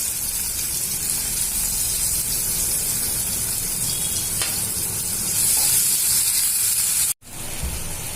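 Tomatoes and asafoetida sizzling in a pan for Maharashtrian zunka, a loud continuous frying hiss with faint stirring, cut by a brief gap near the end before resuming.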